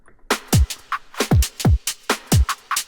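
Breakbeat drum loop with extra percussion added between hits: booming kicks and crisp snares in a syncopated pattern, punctuated by short pitched tick-like hits, loud and dry with no talking.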